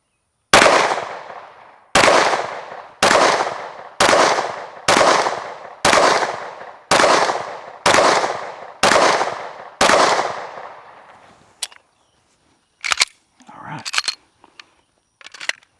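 A Canik SFx Rival pistol fires AAC 115 grain rounds in ten loud, evenly spaced shots, each a sharp crack followed by a ringing decay. A few fainter clatters and handling noises come after the string.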